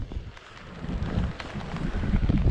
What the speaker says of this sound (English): looks like the rain's back